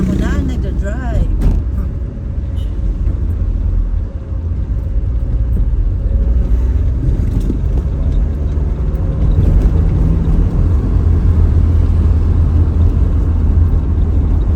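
A car drives along a wide road in Alfonso, Cavite, with a loud, steady engine and road rumble filling the cabin throughout and people talking over it.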